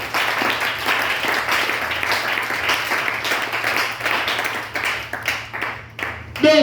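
A church congregation applauding in a sustained burst of clapping that fades slightly near the end before a brief louder flare, with voices faintly mixed in.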